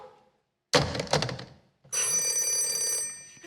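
A telephone bell rings loudly in a radio drama scene, a short burst of ringing, a pause, then a sustained electric ring that fades at the end.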